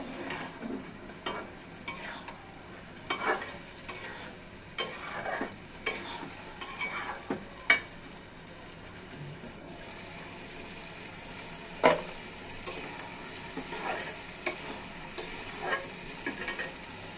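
Potatoes sauté in a hot pan with a low sizzle while a spatula scrapes and stirs in irregular bursts, each stroke clattering against the metal, with no talking.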